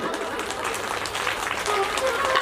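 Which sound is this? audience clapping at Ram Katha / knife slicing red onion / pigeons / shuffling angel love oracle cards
audience clapping at Ram Katha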